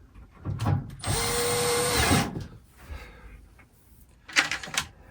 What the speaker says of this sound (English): put the 3 screws back in.